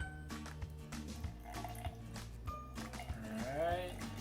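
Water poured into a sourdough starter sitting on a kitchen scale, about 50 grams for a feeding; a soft, steady trickle runs for a few seconds beneath a voice and steady background tones.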